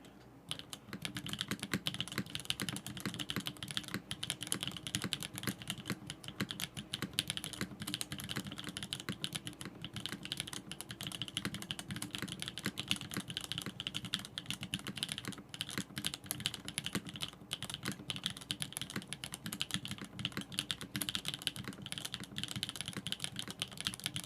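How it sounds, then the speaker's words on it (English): Rapid, continuous keystrokes from a custom purple K-pop-themed keyboard during a typing test, clattering steadily and close for the whole stretch with no talking. "It does sound like a keyboard."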